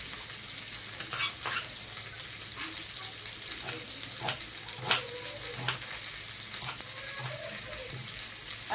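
Spices frying in a pan for a cauliflower curry, a continuous low sizzle with occasional clicks and light stirring scrapes, close but fairly quiet.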